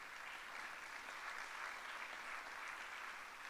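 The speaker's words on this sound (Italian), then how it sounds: "ancora un applauso" Steady audience applause fills a hall at an Italian cultural talk, a faint, even patter of many hands clapping without pause.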